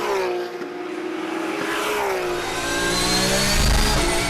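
A Porsche 991 Cup race car revs hard on the Val de Vienne circuit, its engine note loud and sustained, rising and shifting pitch with a steady harmonic whine throughout, mixed with other racing engines nearby.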